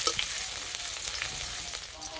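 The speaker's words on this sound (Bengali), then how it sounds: "আদা লঙ্কা হালকা করে ভেজে নিয়েছি" Grated ginger and slit green chillies fry in a little oil with cumin and bay leaf in a kadai, giving a dense, continuous close sizzle with faint crackles throughout.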